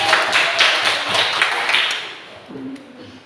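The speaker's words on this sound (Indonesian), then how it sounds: "Tepuk tangan." A classroom of students bursts into a short round of applause, many hands clapping together at once, loud at first and then fading out within a few seconds.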